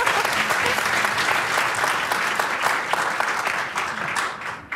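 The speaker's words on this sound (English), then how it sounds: "You can applaud." Audience applause at a panel on placemaking and city government, dense steady clapping from a crowd for nearly five seconds that ends abruptly.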